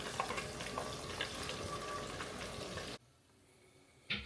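Battered shrimp tempura dropped into hot frying oil, a dense bubbling sizzle that runs loud for about three seconds, cuts to near silence, then bursts back briefly.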